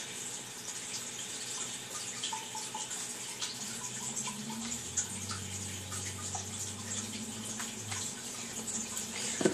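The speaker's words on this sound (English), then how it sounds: "And that's a waterfall and your lake right there." A waterfall pouring into a lake in the video game Far Cry 3, a soft, steady rush of running water with faint low tones underneath and no talk.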